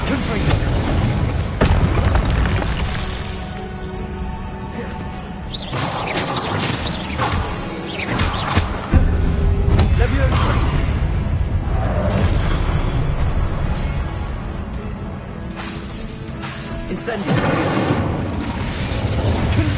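Incendio and Confringo spell blasts in the video game Hogwarts Legacy, a run of booming fiery bursts and whooshes in busy combat, loud and continuous, with a voice talking over them.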